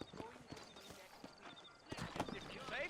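Horse hooves clip-clop in an irregular walking rhythm in the Western video game Red Dead Redemption, set in New Austin, with a faint whinny near the end and voices talking over it.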